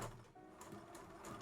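A sewing machine stitches round the armhole of a child's dress, giving a quiet, steady mechanical whir with a soft rhythmic ticking up close.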